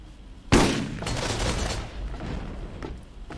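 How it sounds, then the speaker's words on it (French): An automatic pistol in the Borderlands video game lets off a sharp burst with a sudden loud onset, then rattles on in a few following shots before fading, with no talk over it. "D'accord, c'est un pistolet automatique."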